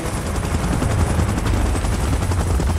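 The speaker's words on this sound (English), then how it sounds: "Chopper in position." A helicopter in a Godzilla and King Kong monster video game, a dense continuous rotor roar mixed with rattling gunfire, loud and unbroken throughout.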